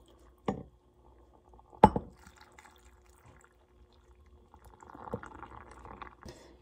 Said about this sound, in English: I'm just going to take my vinegar and sugar mixture, and I'm just going to pour that over.